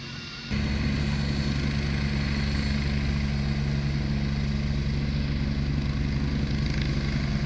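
SAMU medical rescue helicopter taking off, a steady loud engine and rotor drone that starts abruptly and holds constant, with no talk over it.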